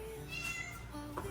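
A pet cat meows a couple of times indoors, the calls fairly close and clear against a steady low hum, with no talking during the sound.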